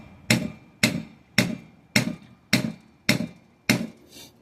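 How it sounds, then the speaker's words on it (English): A heavier hammer strikes a copper bracelet seven times in a steady, even rhythm, each blow a sharp, loud metallic crack with a short ringing tail, close up and alone with no talk. "a heavier hammer actually helps you get those little flat spots"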